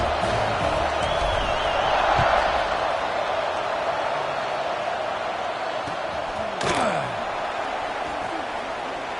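Stadium crowd at a Penn State vs Washington football game, a distant, steady roar of cheering with a brief sharp swell near the end, underneath commentators talking.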